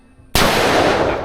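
A single loud gunshot fired at hanging bottles breaks a quiet moment outdoors in Sabang, Mindoro, Philippines, leaving a sharp, sustained blast that rings on to the end.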